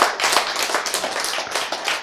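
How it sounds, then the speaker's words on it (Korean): Audience members clap during a lecture on healthy eating, producing a quick run of close, rhythmic handclaps that pulse unevenly for a couple of seconds. "기대하시라 그러면 박수가 나와야 될까?"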